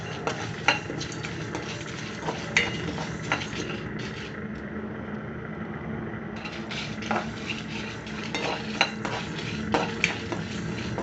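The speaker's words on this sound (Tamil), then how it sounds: "அதை விட மிளகு 10 மிளகு மாதிரி போட்டுட்டு அதை கொஞ்சம் வறுப்போம்" Black peppercorns being dry-roasted in a pan, a continuous rattling, scraping stir with light sizzling and frequent clinks of a spoon against the metal, close and steady for several seconds, no talking.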